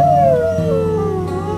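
Sled dogs at the U.P.200 sled dog race howl together in a close, sustained chorus of long wavering tones that slide downward, left behind on injured reserve as the team departs.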